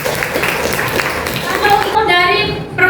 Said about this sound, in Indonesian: tepuk tangan dulu Zahra